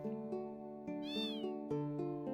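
A cat meows in Final Fantasy VIII Remastered, with several clear, close meows over a steady game music background and no talking.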